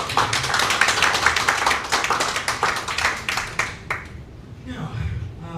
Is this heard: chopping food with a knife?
no